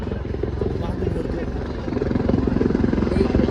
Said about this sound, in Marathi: आता हेलिकॉप्टर येणार आहे तिकडून इकडे येणार आहे